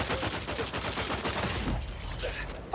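Rapid automatic weapon fire in The Outer Worlds 2, a dense burst of gunshots for about two seconds that cuts off and leaves a short quieter tail.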